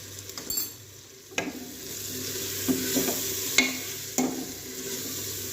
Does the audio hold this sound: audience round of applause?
no